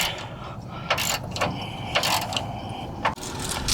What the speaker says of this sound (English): we need to crank that torsion bar up a little bit to about an inch on this side